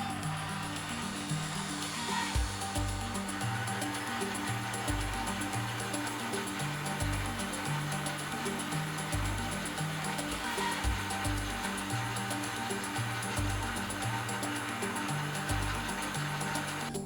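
Electric mixer beating carrot cake batter of sugar, eggs and vegetable oil, a steady close whirring drone with rhythmic low pulsing throughout.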